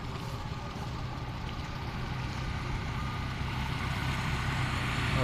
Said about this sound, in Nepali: अटो पनि आइरहेको दृश्य छ।